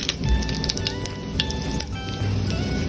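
Cumin, mustard seeds and red chilies sizzle in hot oil with a steady crackling hiss and occasional pops, close and moderately loud throughout.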